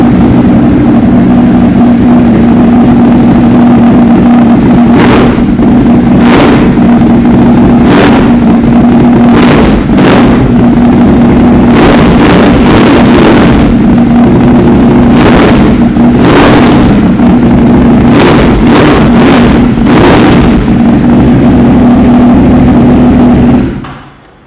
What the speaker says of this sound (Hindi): तो आइए पहले एक बारी फायर अप करते हैं, आपको सुनाते हैं इसकी टर्मिगनोनी के साथ आवाज़।